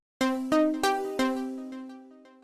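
A bright synthesizer pluck plays four quick notes, each with a sharp attack, and the last note rings out and slowly fades.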